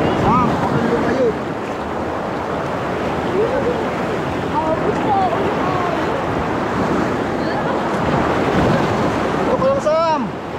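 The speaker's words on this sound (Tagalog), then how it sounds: "Nakakatakot ang dagat dito." Steady, loud surf washes onto a beach in San Narciso, Zambales, rolling continuously with strong wind noise on the microphone throughout.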